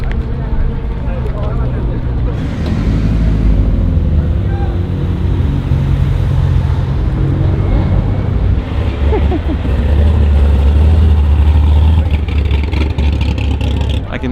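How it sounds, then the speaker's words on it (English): Car engines rumble and rev at a Cars & Coffee meet, a steady low roar with wind buffeting the microphone and people talking over it throughout. "I can hear Stu revving from like eons away."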